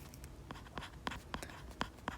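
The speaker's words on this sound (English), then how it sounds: "So I'll write here" A pen scratches across paper in short, evenly spaced strokes, quiet and close, with faint rustling between each mark.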